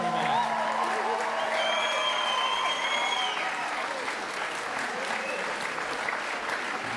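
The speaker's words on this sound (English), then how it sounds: "Let's give them one more round of applause," A theatre audience at a variety show gives the cast a steady round of applause, dense and continuous for several seconds, with a few scattered cheers and some voices mixed in.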